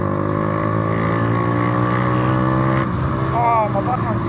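A motorbike engine, no longer running through its broken exhaust, drones loud and steady up close, its pitch rising briefly near the end while a voice speaks over it.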